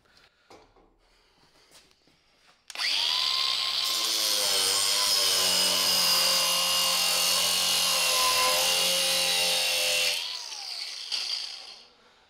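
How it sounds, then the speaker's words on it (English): A cordless grinder cutting through steel, a loud high whining screech that starts abruptly, holds steady for about seven seconds and then cuts off and winds down. "we'll time how long this takes to cut with a cordless grinder"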